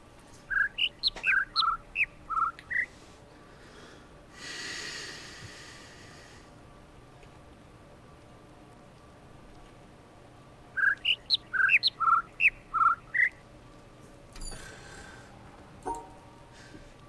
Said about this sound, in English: Birds are conniving.